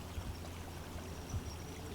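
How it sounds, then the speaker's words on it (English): A small creek runs steadily past with a tiny waterfall, giving a soft, continuous wash of water that is fairly faint and distant, with a few low thumps, alone and without voices. "I have this little creek below me running pretty steadily, and there's like a little tiny waterfall that was actually surprisingly loud"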